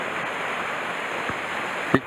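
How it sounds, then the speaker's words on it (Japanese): A mountain stream flows with a steady, even wash of water at a fishing spot, continuous and fairly soft, with a brief knock near the end. "沢音だけだね。"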